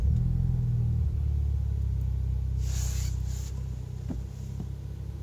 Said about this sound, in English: now I'm gonna start the car for the first time after flashing the Tune Plus